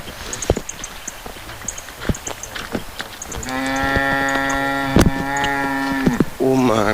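A cow moos in a western Nepal village, a long, loud, close call with a steady tone, followed by a second shorter moo. Earlier there are soft knocks, rustling and distant birdsong, with voices talking faintly around it.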